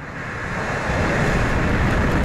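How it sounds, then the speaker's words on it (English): An Atlas V rocket lifts off carrying a NOAA GOES weather satellite, a loud, dense, continuous roar that swells slightly and rumbles on without a break. "Liftoff of NOAA's GOES team, our newest weather sentinel in the sky"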